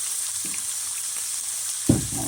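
A soffritto for homemade meat cannelloni sautés quietly in a pan, giving a soft, steady hiss with a couple of light clunks of a utensil against the pan near the end.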